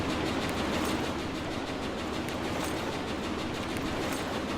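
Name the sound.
train moving in a video game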